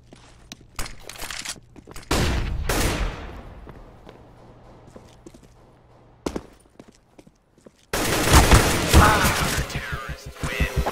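Gunfire in the CS:GO video game: scattered sharp single shots and short bursts, then a dense, loud stretch of rapid fire near the end.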